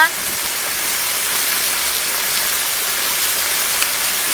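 Onion, panch phoron and dry chilli frying in hot oil for a village-style kochu bata, a steady broadband sizzle holding close and even throughout with no pauses.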